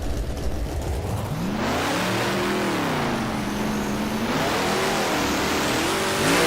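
Turbocharged Mustang and Daytona drag cars launch off the line at Perth Motorplex, engines revving hard and rising in pitch through gear changes, a loud close roar that swells and sustains.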